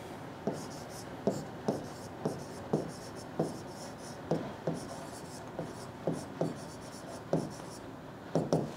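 Chalk or marker strokes on a board as a finance formula is written, a series of short, crisp scratching taps in irregular rhythm, close and fairly quiet, with no voice.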